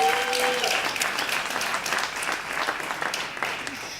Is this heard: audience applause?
yes